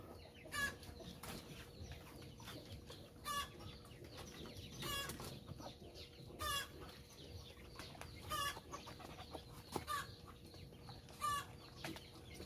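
Four-month-old Rhode Island Red bamboo line chickens cluck in short, soft, scattered bursts, with occasional wing flaps and a steady low background.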